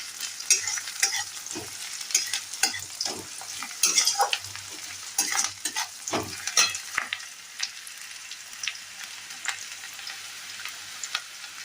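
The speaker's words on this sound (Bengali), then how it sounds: "পেঁয়াজগুলি দেখুন অনেকখানি ভাজা ভাজা হয়ে গেছে।" Onions fry in a pan for potato-filled chili pakora, a continuous bright sizzle punctuated by frequent scraping and tapping stirs, close up and without any voices.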